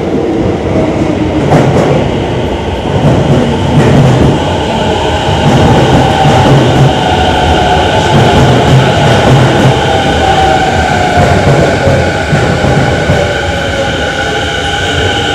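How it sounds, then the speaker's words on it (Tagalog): A train arriving at a station in Japan, with a loud, steady rumble of wheels and carriages rolling in, rail clatter, and a faint squeal of wheels, heard close from the platform. "Ayun na pala ang train."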